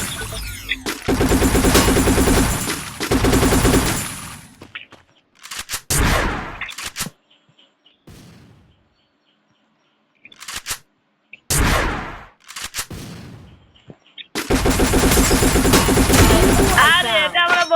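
Bursts of gunfire from a shooter video game, loud rapid volleys clustered at the start and end with short isolated shots between them, separated by near-silent gaps.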